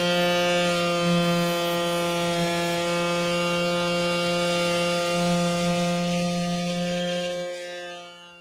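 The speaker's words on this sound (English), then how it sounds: "it's still got a little more sanding to do" A loud power sander whines at a steady pitch close by for several seconds, then winds down and stops, sanding a wing during a SPEC Wing build.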